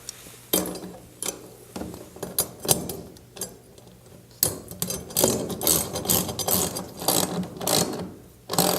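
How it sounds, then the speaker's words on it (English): Ratcheting clicks and metallic mechanism sounds as a lock nut over a flat washer is tightened on a ceiling sidewall inlet in a poultry house, coming in close, dense bursts with brief pauses, no talking. "Then there is a flat washer and a lock nut. I'm just going to go ahead and tighten that up."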